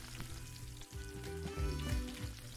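Green chillies and cumin seeds frying in hot oil or ghee for dal tadka: a soft continuous sizzle with a few spattering bursts and light stirring, no talk.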